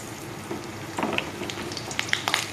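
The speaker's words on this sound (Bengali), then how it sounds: "প্রথমে তেলটা গরম হয়ে গেছে, দিয়ে দিব পটলগুলো, কেটে রাখা পটলগুলো দিয়ে দিব।" Sliced pointed gourd sizzles in hot mustard oil with a steady crackling hiss, broken by brighter pops and spatters as the pieces settle into the pan.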